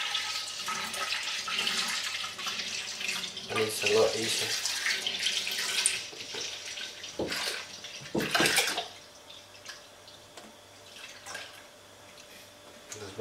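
Milk glugs and splashes as it is poured from jugs into a pot for home cheesemaking, a loud, liquid stream that trails off into quieter drips, with a voice speaking briefly.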